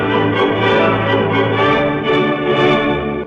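Full orchestra music low-pass filtered to remove everything above 4,000 cycles, sounding warm and slightly muffled with rich bass and mid tones, playing continuously and loud.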